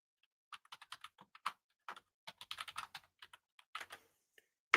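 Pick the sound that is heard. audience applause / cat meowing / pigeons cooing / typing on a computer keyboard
typing on a computer keyboard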